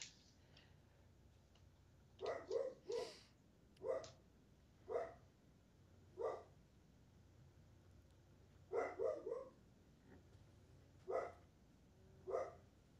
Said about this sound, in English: You'll just have to listen to the dog barking in the background.